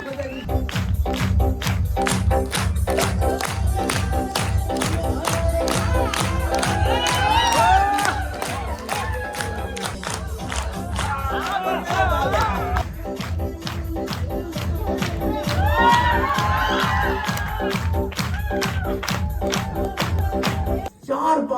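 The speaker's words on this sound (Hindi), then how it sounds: "ताली जोरदार बजाइए" An audience at an RCM business seminar in Botad, Gujarat claps in loud rhythmic unison over music, with bursts of cheering and whoops rising twice, and voices audible throughout.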